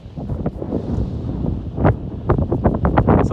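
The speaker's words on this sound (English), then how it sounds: "when it's windy, you can hear the wind slamming against these saguaros" Gusty desert wind buffets saguaro cacti in loud, irregular bursts that thump against the microphone, growing choppier toward the end.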